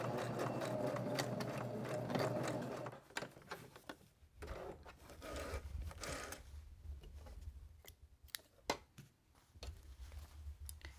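A home sewing machine back-stitches a necktie purse, running in a steady whir for a few seconds, then breaking into shorter bursts and clicks as the stitching reverses and stops, with quiet pauses between.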